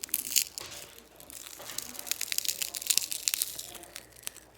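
Glass is crushed and broken by hand, producing irregular crunchy crackles and sharp gritty snaps that come in uneven bursts at close range, with no voices.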